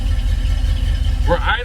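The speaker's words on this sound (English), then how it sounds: "We are idling, people." Car engine with a carburetor idling steadily, a close low rumble that runs throughout, with a voice speaking briefly near the end.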